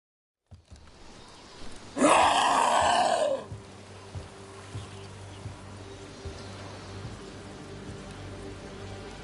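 Rain falls in the video game Dragon Age: The Veilguard as a steady, low hiss throughout. Early on, a loud, harsh, grunting vocal burst rises briefly above the rain.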